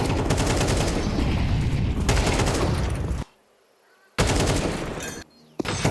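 Rapid gunfire from a Counter-Strike esports match, a dense loud burst of shots that breaks off briefly, then resumes with a short final crack.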